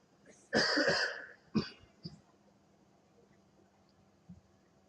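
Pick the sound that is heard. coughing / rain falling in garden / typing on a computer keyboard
coughing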